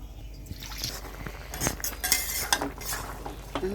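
Stirring fish and kolmi greens in a pan, a metal spoon scraping and clinking against the pan in irregular strokes with soft liquid sounds, close and clear.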